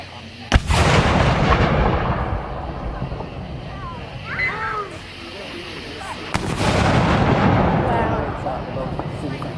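Two booming cannon shots at a Civil War battle reenactment outdoors, each a sharp loud blast followed by a long rumbling echo, with people talking and exclaiming between them.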